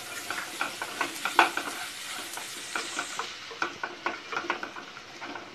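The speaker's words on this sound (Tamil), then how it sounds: "இப்போ சிக்கன் மேக்னேட் பண்ணி ஃப்ரை பண்ணி வச்சிருக்க சிக்கன் ஆட் பண்றேன்." Marinated fried chicken stirred into sautéed onions in a pan for chicken fried rice, a continuous sizzle with frequent rhythmic scrapes and clinks of the spoon against the pan, close and moderately loud.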